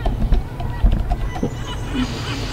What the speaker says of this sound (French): On entend les mouettes.